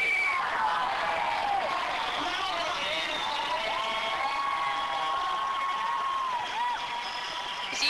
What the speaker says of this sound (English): we made a huge cheer, much more as we possibly could, to send a message to Downing Street